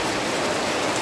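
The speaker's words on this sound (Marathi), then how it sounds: "कोकणात बघा किती मुसळधार पाऊस" Heavy December rain pours down in Konkan, a dense, even hiss of downpour that stays loud and steady throughout with no voices.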